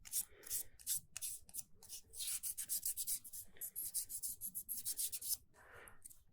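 Wet sanding of an alabaster piece with 1000-grit sandpaper: quick, rhythmic back-and-forth rubbing strokes, close and steady, with a few brief pauses between passes.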